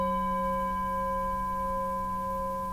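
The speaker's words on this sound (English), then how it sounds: "So here's the sound of the singing bowl now." A singing bowl rings with a steady, sustained resonant tone and clear overtones, holding evenly and fading only slightly as it sounds alone and fairly soft.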